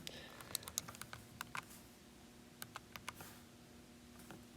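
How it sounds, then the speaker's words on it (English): Numbers are typed on a computer keyboard in quick bursts of light plastic key clicks. Short clustered runs are separated by brief pauses, heard close but quietly against a steady faint background hum. "So I'll type that in."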